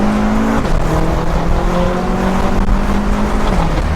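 A loud BMW engine revs and drones close by, its pitch dipping and rising, with a reverberant, echoing quality as the sound bounces off other parked cars.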